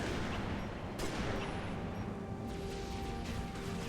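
Continuous dense gunfire in the video game Halo Reach, a steady roar of rapid shots and booms with no pauses, loud and close throughout.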